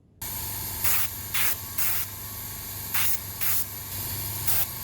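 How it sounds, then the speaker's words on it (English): Six short, loud hissing bursts of flat clear coat spray onto plastic parts of a Nakajima B5N2 model kit cockpit, each burst standing out from a steady background hiss and low hum. "we're going to spray all the parts with a coat of flat, clear, just to give the impression of being a little bit dirty"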